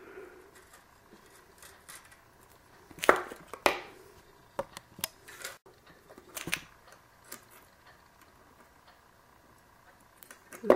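Pliers snip through about six inches of thin craft wire for recycled-material earrings, a handful of sharp close clicks spaced irregularly in a quiet room, with no speech.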